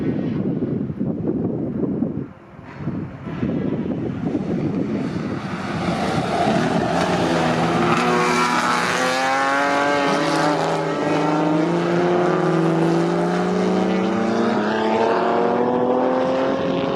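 Vintage race cars, including a 5.5 litre V8 Lister and a 2 litre Lotus Mark 10, racing at Snetterton: a loud, sustained engine roar whose pitch climbs steadily as a car accelerates close by, with wind buffeting in the background.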